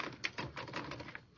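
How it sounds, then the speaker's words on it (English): Keys strike on a typewriter in a quick, irregular run of sharp clacks, close and fairly loud, with no one talking. "Take over this typewriter,"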